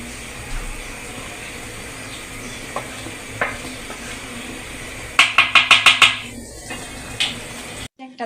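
Biryani is stirred in a pot over low heat, with a soft sizzle beneath a quick run of clanking strikes from the utensil against the pot, close and alone.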